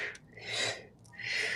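A person breathes out deeply and slowly, a soft, airy exhale close to the mic during a guided breathing exercise, with a second breath starting at the end.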